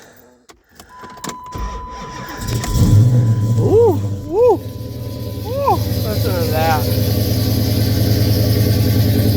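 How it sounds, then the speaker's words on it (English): A car that has sat unstarted for over a month in cold weather cranks, fires up with a loud rumble and settles into a steady, close idle while a man exclaims over it. "Over a month since this car's been started."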